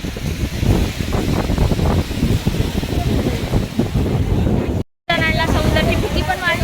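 Sea waves roll in at Juhu Beach with strong wind buffeting the microphone, a loud continuous surf roar that runs under a person talking.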